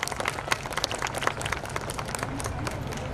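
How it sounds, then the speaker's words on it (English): An audience at a school annual day applauds, with dense, steady clapping from many hands at moderate loudness and a slight crowd murmur underneath. "A big round of applause for Kaivalya Vidyaniketan, Kaivalya Dhama"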